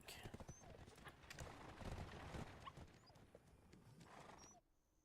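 A wild horse in the Black Desert online game trots with quick clip-clop hoofbeats and gives a whinny, set against busy game sounds with faint talk underneath, before it cuts off near the end.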